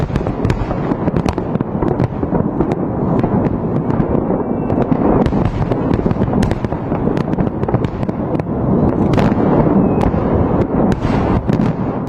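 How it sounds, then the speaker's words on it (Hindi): A night fireworks display in Russia, with dense continuous crackling and booming bursts, many sharp pops overlapping at a steady loud level throughout and no voices. "पुतिन ने रात में आतिशबाजी करवा दी।"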